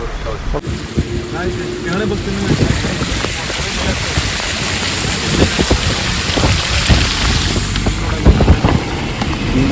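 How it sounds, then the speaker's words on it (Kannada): Heavy rain in Mysore, Karnataka pours steadily in a dense, loud wash, with rumbling low noise and scattered impacts throughout. "ಅಷ್ಟು ಜೋರು ಮಳೆ ಬರ್ತೈತೆ ಮೈಸೂರಲ್ಲಿ ನೋಡಿ"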